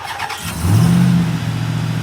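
A RAM 1500 TRX's 6.2-liter supercharged Hemi V8 cranks and catches on remote start, a brief starter whir giving way to a loud, deep, steady idle rumble close by, with no talking.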